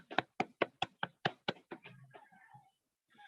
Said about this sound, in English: Give a virtual clap for our national leader.